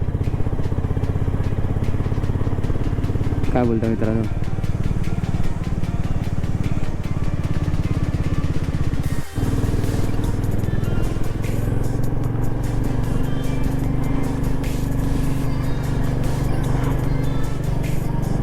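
A motorcycle riding along a winding hill road near Matheran, its engine giving a steady, close drone throughout, with a short spoken phrase near the start.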